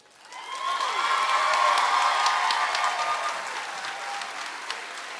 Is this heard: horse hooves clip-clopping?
no